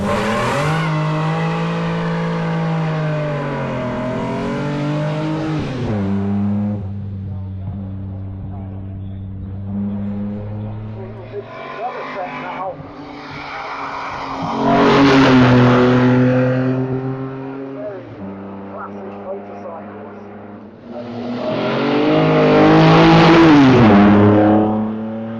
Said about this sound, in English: So the last batch of cars heading back down the hill,